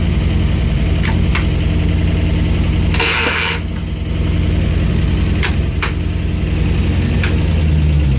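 A 1972 Range Rover's engine runs steadily and loudly up close while the vehicle reverses, with a deep, constant idle-like drone and a short mechanical clunk partway through.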